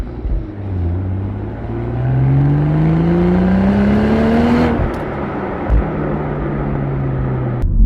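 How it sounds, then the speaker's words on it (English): A Toyota GR Supra sports car with a six-speed manual and rear-wheel drive, its induction and exhaust heard from the cabin while driving: a loud engine drone rising in pitch through the revs, a brief drop, then steady running. "All of it is either coming from the induction up front or from the exhaust out the rear, and it's a decent sounding sports car."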